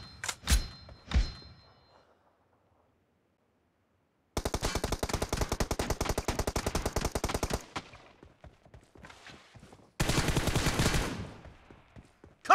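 PUBG gunfire: two sharp single shots open, then after a silence a long rapid automatic burst, a quieter gap with faint clatter, and another loud automatic volley near the end.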